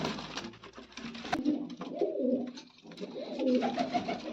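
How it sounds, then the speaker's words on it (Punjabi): Pigeons coo in low, throaty bursts that roll and repeat over a steady background hum. No one speaks. "ਉਹ ਖੱਟੀਆ ਦਾ ਆਪਣਾ ਪੁਰਾਣਾ ਕਬੂਤਰ ਹੈ"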